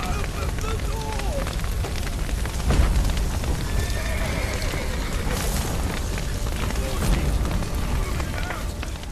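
Horses neigh and whinny amid a loud, busy battle scene in The Witcher 3, with fire, crashes and hoof clatter mixed in and shouting voices throughout.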